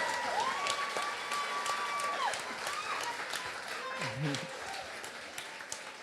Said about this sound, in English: can we give the students who just came out to perform another round of Un applause?